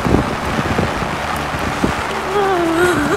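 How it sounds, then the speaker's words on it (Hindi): Heavy rain pours over paddy fields in Alappuzha, Kerala, a dense steady hiss of falling water with some wind buffeting, while people talk nearby. "बहुत ही ज़्यादा अच्छी बारिश हो रही है"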